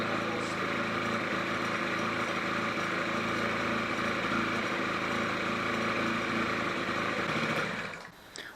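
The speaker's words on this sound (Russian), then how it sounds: "удалось нам запустить этот самовар" Small engine of a revived Honda Gyro X scooter running at a steady, buzzing idle close by, holding even for several seconds before cutting off near the end.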